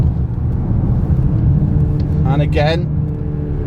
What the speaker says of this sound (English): That was it dropping gears